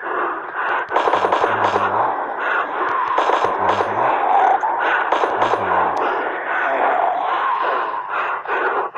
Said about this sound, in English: I'm shooting a guy.